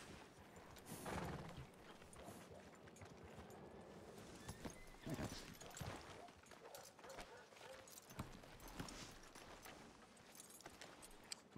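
Horse hooves clop unevenly and fairly quietly in a Wild West roleplay video game, with a couple of louder stamps and a brief whinny-like sound over a busy background.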